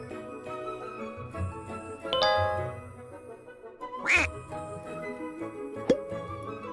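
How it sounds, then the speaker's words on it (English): Discord's Wumpus message notification chimes, short bright tinkling tones sounding a few separate times over a soft musical background. "Wumpus text sound."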